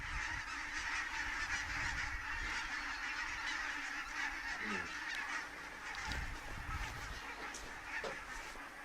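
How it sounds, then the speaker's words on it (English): A flock of geese honks on and off for several seconds, fairly close and steady against outdoor background noise, with no talking. "Damn geese are here again."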